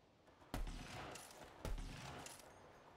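Two sharp, heavy gunshots in Borderlands 3, each with a loud crack and a rolling tail of echo, about a second apart, at moderate distance with nothing else over them.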